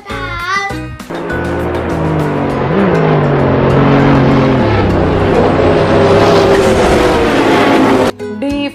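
A car engine revs and roars in a driving sound effect, rising in pitch as if accelerating past, loud and continuous, with brief musical notes at the start and end.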